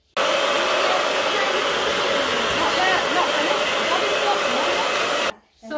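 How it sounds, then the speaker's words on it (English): Hair dryer blowing on a wet crayon painting, a loud steady whooshing roar that starts abruptly and cuts off just before the end, no voices. "use a cheat and use the hairdryer while we were doing that"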